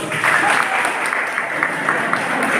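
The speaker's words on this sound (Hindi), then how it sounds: "उनके लिए ताली बजा करके धन्यवाद दो" A room of students clapping together during a moral-education talk in Darjeeling, a continuous, fairly even patter of many hands that carries on without letup.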